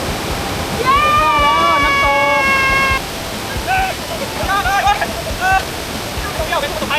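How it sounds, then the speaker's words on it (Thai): Steady broadband roar of the first tier of Mae Hong Klang waterfall in Omkoi, Thailand, fills the clip, close and loud, with someone speaking over it throughout. "เรามาถึงชั้นแรกของน้ำตกแล้วครับ"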